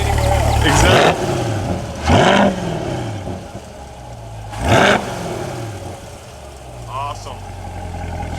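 A 2020 C8 Corvette Z51 sports car engine revs up in several throaty exhaust bursts, rising and falling between quieter idling, with a steady background rumble.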